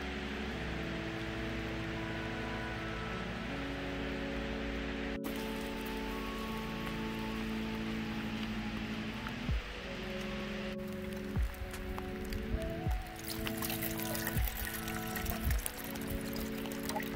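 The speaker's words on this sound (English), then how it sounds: "Starting to rain, we're all right." Rain falling in a dark wood beside Ladybower Reservoir in the Peak District, a steady soft hiss of drops on leaves that grows patchier with scattered closer taps, heard alongside a low droning hum.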